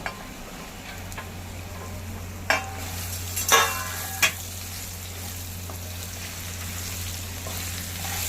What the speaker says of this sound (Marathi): ह्यात आता आपण आपली तयारी सगळी परतून घेऊया